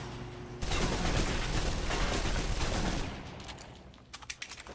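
Rapid submachine gun bursts in the shooter game Destiny: Rising, close-quarters fire; a dense, loud stream of automatic shots for about three seconds, then fading with a few scattered pops.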